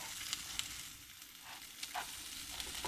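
An English muffin sizzles softly in a frying pan, with a steady hiss of frying and a few light pops and clicks, quiet and close with no voices.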